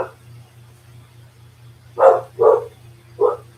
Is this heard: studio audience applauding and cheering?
no